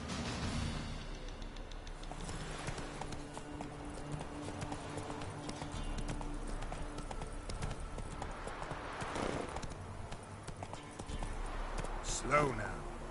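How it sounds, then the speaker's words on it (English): Horse hooves clip-clop at a walk in the video game The Witcher, a steady moderate rhythm under game music and spoken dialogue, with a brief rustle near the end. "Whoa there, Roach"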